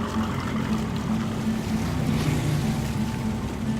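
Motorboat engine running in The Walking Dead: Michonne video game, a steady low droning rumble with wash of water and wind, continuous and fairly loud throughout.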